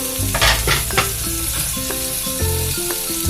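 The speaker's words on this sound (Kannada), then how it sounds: "ಕಾಯಿ ಎಣ್ಣೆಗೆ ಫ್ರೈ ಮಾಡಿದ್ರೆ" Grated coconut sizzles as it fries in oil, with a spoon repeatedly stirring and scraping through the pan in an uneven rhythm, close and fairly loud, with no voices.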